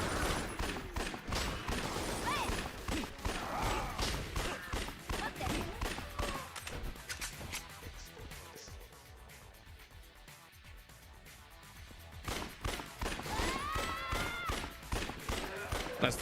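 Assault rifle fire in Yakuza Dead Souls, rapid automatic bursts crackling close and loud in long strings, easing briefly in the middle before resuming, with a voice talking over parts.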